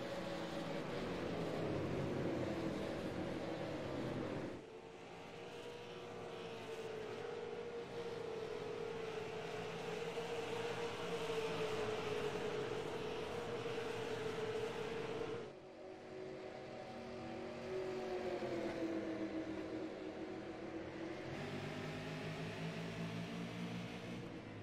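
Race cars circling the Lucas Oil Raceway short track during Short Track Thunder, a sustained engine roar that swells and drops as cars pass, with two sharp breaks where the sound cuts away and resumes.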